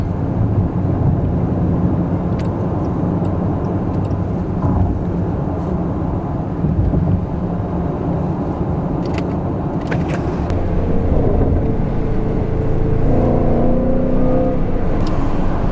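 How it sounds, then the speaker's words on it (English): Jaguar F-PACE SVR with its 550-hp V8, heard while driving with a window open: a loud, continuous engine drone and road roar with wind buffeting, the note swelling as it accelerates toward the end. "I can open up the window so you can hear some of that V8 music."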